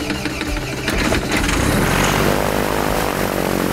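A Cessna airplane's traditional piston engine starting up, a loud close rumble that quickly settles into a steady, dense propeller-driven drone.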